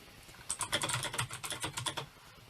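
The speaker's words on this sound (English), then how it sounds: "I have a very loud mechanical keyboard that I got for Christmas" A loud mechanical keyboard clatters with a quick run of crisp, closely spaced key clicks for about a second and a half, close up with no talking.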